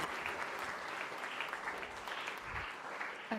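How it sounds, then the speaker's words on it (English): Steady audience applause fills the hall at a school friendship debate, a dense wash of many clapping hands held at an even level throughout, with no voices over it. "So a round of applause to yourself."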